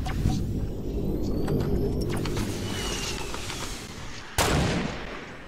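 Gunfire in the video game Fortnite rattles in quick repeated shots through a squad firefight, dense at first and then broken by one loud close blast near the end, with no talk.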